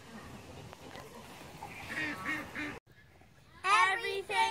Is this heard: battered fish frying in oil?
no